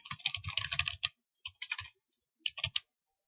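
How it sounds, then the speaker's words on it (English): Three quick bursts of close keyboard typing, crisp clicking keystrokes separated by short silent pauses. "I'll type it in here, and then I'll save it."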